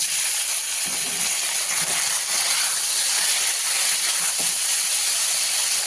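Boiled taro stolons hiss in hot oil with fried chopped garlic, as part of a prawn and taro stolon dish. A loud, even, steamy sizzle runs unbroken throughout, close by and with no talking.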